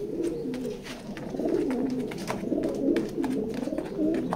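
Pigeons cooing in a pigeon loft, several overlapping low rolling coos repeating close by, with no voices over them.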